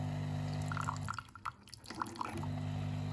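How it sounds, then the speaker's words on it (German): A DeLonghi Dinamica Plus espresso machine rinses its milk system with hot water into a cup, giving soft drips and trickles over a steady machine hum that drops away briefly mid-clip. "Jetzt wird alles mit heißem Wasser durchgespült."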